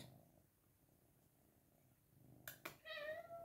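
A pet cat lets out a couple of sharp sounds and then a drawn-out, close meow, following quiet, soft room noise.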